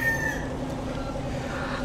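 Hens cluck and murmur softly over steady low background noise, with a brief higher call near the start, no voices.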